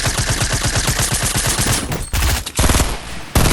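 Rapid automatic gunfire from the video game Fortnite rattles loud and close in a sustained burst, then breaks into short choppy bursts.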